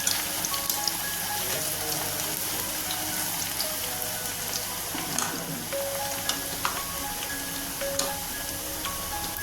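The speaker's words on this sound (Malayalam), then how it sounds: "വെളിച്ചെണ്ണ ചൂടായിട്ടുണ്ട് നമുക്ക് കുറച്ച് ചക്കക്കുരു ഇട്ട് കൊടുക്കാം" Jackfruit seeds fry in hot coconut oil for chips, a dense, steady sizzle and crackle close up that runs the whole time without any voices.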